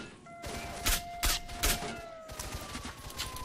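Gunfire in the video game S.T.A.L.K.E.R. Shadow of Chernobyl from a weapon in extremely bad condition, with three sharp loud shots at spaced intervals followed by a rapid burst, over a low game ambience.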